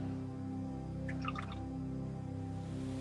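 Paintbrush swished briefly in a small pot of water at a hobby painting bench, a faint cluster of drips and splashes over a steady background hum.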